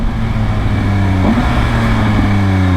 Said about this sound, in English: Let's see what this quick shifter is like going down in the gears.